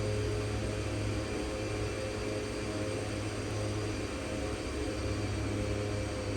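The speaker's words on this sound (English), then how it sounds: "There goes that left engine." Steady, dense drone of an aircraft engine in the X-Plane 11 flight simulator as the left engine fails, a constant roar with a low hum that holds unchanged throughout and carries no talk.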